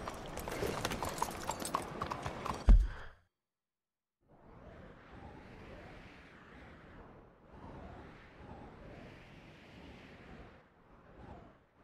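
After a burst of loud noise cuts to silence, steady horse hooves clip-clop in a rolling rhythm at moderate volume in Red Dead Redemption 2, continuing in several long waves.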